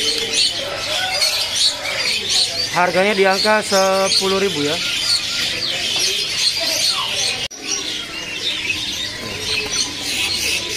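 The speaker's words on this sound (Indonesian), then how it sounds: "Di depan kita ini ada burung kutilang lokal." A local sooty-headed bulbul (kutilang) calls among other chirping birds at a bird kiosk, with a clear burst of bright, rising notes partway through while someone talks over the busy chatter.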